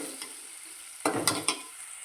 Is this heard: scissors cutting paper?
no